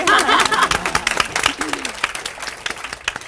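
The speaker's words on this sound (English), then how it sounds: "She gets a little round of applause." A small round of applause from a panel discussion audience, brief scattered claps with some chuckling and murmured voices, loudest at the start and thinning out toward the end.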